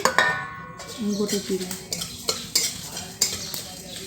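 Whole spices, coriander seeds, black cumin and cumin, being stirred in a pan for a jujube (kul) pickle, with repeated scraping and clinking of a utensil against the metal over a faint sizzle.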